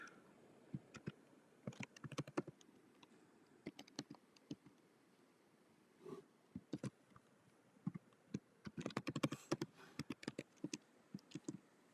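Password being typed on a computer keyboard: irregular bursts of close, crisp key clicks with brief pauses between runs, no voices.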